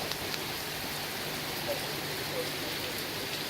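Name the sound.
heavy rain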